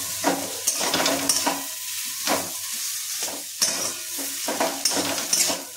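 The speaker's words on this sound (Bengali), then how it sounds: "এবারে আমি আবার মিক্সটা করে নেবো।" Spiced potato filling for paratha being stirred and fried in a pan, with a soft steady sizzle broken by repeated scraping strokes of a spoon, close up and with no voices.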